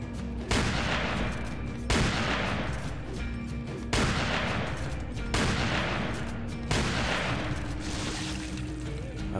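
Booming shotgun blasts from a Resident Evil 4 mod, five heavy shots spaced about a second and a half apart over a dense game soundscape, each with a sharp attack and a long rumbling tail.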